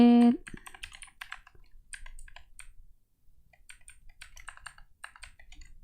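Light typing on a computer keyboard during database work, with scattered clicky keystrokes in short irregular bursts, close and fairly quiet, after a brief tonal blip at the start.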